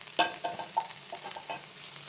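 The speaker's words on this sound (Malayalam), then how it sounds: "നന്നായി വഴറ്റിയെടുക്കുക" Chopped onions and green chillies sauté in a pan for a clam meat roast, with a soft sizzle under scattered scrapes and taps of a spoon stirring, close and fairly quiet.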